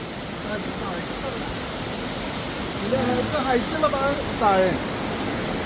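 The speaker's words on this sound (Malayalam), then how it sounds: "നല്ല ഹൈറ്റിൽ വെള്ളം വീഴാണ്" Steady rushing roar of Vayarakkad waterfall, water dropping from a good height in a forest, continuous broadband noise with people talking over it in the middle.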